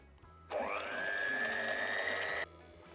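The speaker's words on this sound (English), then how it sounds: "what I'm going to do is I'm going to beat these to stiff peaks." An electric mixer beats egg whites to stiff peaks for a low-carb pizza crust, giving a steady, high motor whine that starts abruptly, holds for about two seconds and cuts off cleanly.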